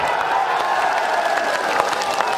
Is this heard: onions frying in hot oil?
no